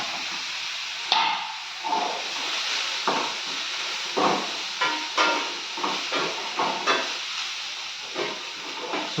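Chicken fried rice with cabbage and coriander frying in a pan: a steady close hiss and sizzle, with repeated scraping knocks from stirring at an uneven rhythm.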